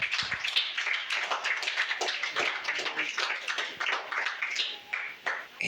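A congregation applauds during a Spanish-language church sermon, a dense, steady wash of many hands clapping together for several seconds with no speech over it.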